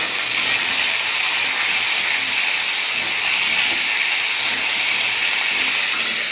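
Tomato hits a hot pan during home cooking and sizzles loudly and steadily, a dense close hiss that holds without a break for several seconds.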